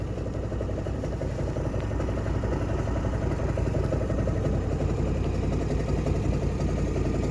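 Farm vehicle driven across a homestead past a rye field, a steady close engine drone with rhythmic mechanical clatter and no pauses, constant in level throughout.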